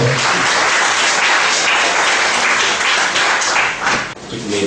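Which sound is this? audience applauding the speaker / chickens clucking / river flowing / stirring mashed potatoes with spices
audience applauding the speaker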